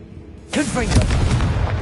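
In Hogwarts Legacy a Confringo spell sounds as a sudden loud boom with a rumbling tail. A voice is speaking over the blast.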